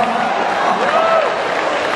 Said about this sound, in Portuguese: Uma salva de palmas à parte de iluminação.